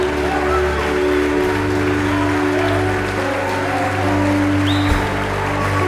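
A church audience applauds during a sermon, a steady dense wash of clapping that holds for several seconds with a low hum underneath and no distinct voices.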